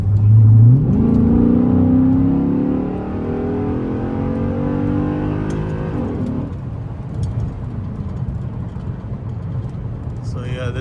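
A nearly 20-year-old Chrysler 300 SRT8 accelerates hard, its engine note climbing steadily through the gears for several seconds. After that it settles into a loud, steady roar, and there is no speech.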